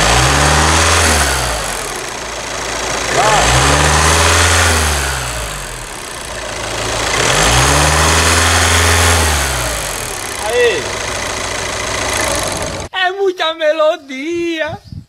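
A parked Volkswagen Amarok 2.0, its timing belt just replaced, is revved several times in slow, even swells above idle. The engine is loud and close, and a voice speaks briefly at the end.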